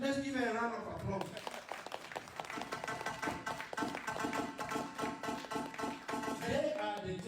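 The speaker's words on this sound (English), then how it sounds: "let's give her a round of applause." A community gathering of Frafra people in New Jersey claps for Sister Maggie Asankunde, rhythmic clapping mixed with voices and music-like tones, moderately loud and continuous after a brief spoken lead-in.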